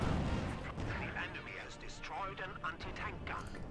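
Artillery and gunfire from a Company of Heroes 2 match between Wehrmacht and Soviet forces, a dense run of battle blasts and shots heard under continuous commentary.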